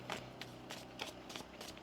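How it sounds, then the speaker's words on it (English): Tarot cards are shuffled softly nearby, a string of quick papery riffles and flicks coming in short bursts at an even pace with no talking. "One more shuffle."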